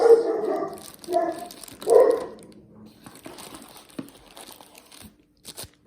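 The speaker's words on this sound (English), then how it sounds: "Dog barking at somebody." A dog barks at someone indoors, a few separate barks early on, followed by quieter crinkling and rustling of wax packs and wrappers handled close by.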